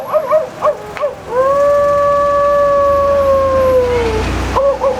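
A didjeridu imitates a dingo howl: a long, loud, sustained wavering tone that rises then slowly glides down over about three seconds, bracketed by short rhythmic droning pulses before and after.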